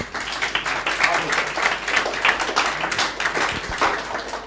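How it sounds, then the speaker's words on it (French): Studio audience applauding a guest on a French talk show about blogs, a steady patter of claps with scattered louder hits, a voice audible over it. "qu'on applaudit très fort"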